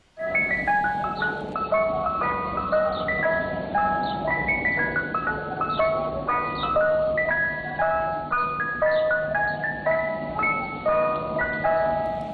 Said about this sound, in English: I hate Mr. Softee trucks because of their jingle.